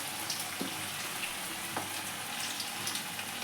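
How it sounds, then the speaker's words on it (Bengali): Vegetable manchurian balls deep-frying in hot oil over low heat, a steady dense sizzle with faint crackles and a few soft pops, close and continuous with no voices. "একটা একটা করে এবার বলগুলো দিয়ে ভেজে নেব।"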